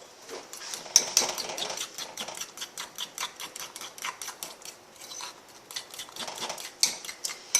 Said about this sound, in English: Now we want to stir this until it's consistent.